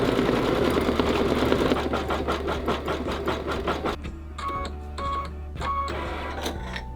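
An embroidery machine stitches an in-the-hoop doorknob design, a close, loud, rapid mechanical chatter of needle strokes over a low motor hum, becoming sparser and more clicky in the second half.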